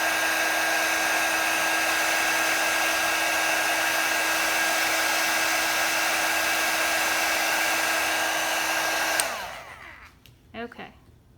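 A heat tool blows a loud, steady whirring rush of air to melt embossing powder on a handmade Christmas card, running continuously before cutting off and winding down near the end.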